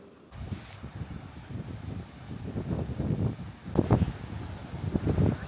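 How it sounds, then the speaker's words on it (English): Strong coastal wind buffets the microphone on a seaside walk from Bray to Dublin, with loud gusty rumbling that rises and falls in waves. "So this wind is becoming a bit of a hindrance to my ability to vlog"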